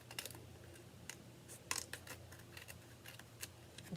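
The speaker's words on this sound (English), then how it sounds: "So I'm going to actually take my scissors" Scissors trimming the white edge of a handmade paper card, a series of faint, crisp snips and small clicks scattered unevenly at close range in a quiet room.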